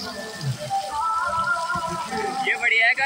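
Water pouring down from overhead at a cheap water park, a steady splashing patter with brief louder bursts near the end, heard under a voice speaking.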